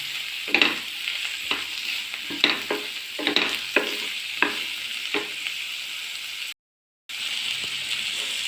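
Chopped capsicum and tomato sauté in a hot pan, sizzling steadily while a spatula scrapes and stirs in sharp bursts, close and fairly loud, followed by a brief gap of silence.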